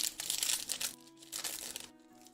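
Crinkly foil Pokemon card packs being shuffled and handled up close, a dense rustling crackle in bursts over about two seconds, loud and alone with no talk.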